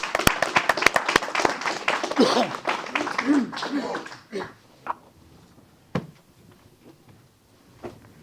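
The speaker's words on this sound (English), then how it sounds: "Let's give him a round of applause." Applause for an honoree at a city council meeting, a burst of clapping with voices mixed in over the first four seconds, then fading to a few scattered claps and quiet room noise.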